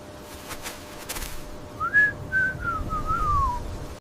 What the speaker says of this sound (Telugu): గాలి బలంగా వీచే కొండను ఎక్కారు